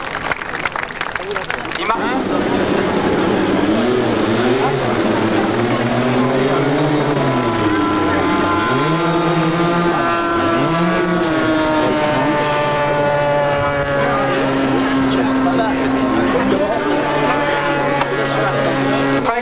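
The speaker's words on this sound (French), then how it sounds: "Vous voyez l'atterrissage très réaliste de ce superbe appareil." A radio-controlled model airplane landing at a 1981 model aircraft meeting in Yverdon, its engine droning loudly and steadily with rising and falling pitch as it throttles down, under a French commentator's continuous talk.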